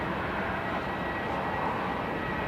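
An airliner departing runway 34 at Melbourne Airport gives a steady, broad roar of jet engine noise that holds at an even level throughout, with no voices.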